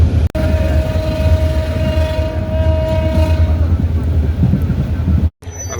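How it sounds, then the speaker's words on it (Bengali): Chittagong Mail passenger train pulling away from Sitakunda station, a steady loud rumble of wheels and carriages with a long tonal horn-like whine, ending abruptly. "এই যে আমরা চট্টগ্রাম মেইল ট্রেন থেকে নামলাম, ট্রেন আবার ছেড়ে দিল।"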